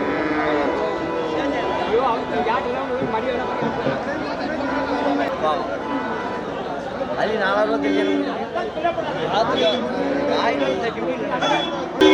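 Cattle moo repeatedly at the busy Melapalayam cattle market, their calls rising over constant crowd chatter and people talking nearby.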